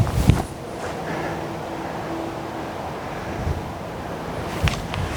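Steady wind rushing over an outdoor disc golf course, a constant broad roar buffeting the microphone, with a couple of brief thumps near the start and end.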